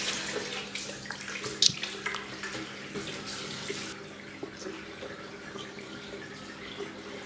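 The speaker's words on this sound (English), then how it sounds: "So I'm going to wash off this cleanser directly with water." Tap water runs steadily while a face is rinsed clean of cleanser at a sink, with splashing and a few louder drips and spatters early on, then a quieter continuous flow.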